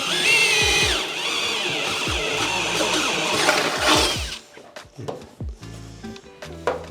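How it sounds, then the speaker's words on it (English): A power drill boring holes through Subaru WRX body metal during a drag car build, a loud whining run for about four seconds, then the motor stops and a few clanks and handling knocks follow. "Just gonna drill a couple holes."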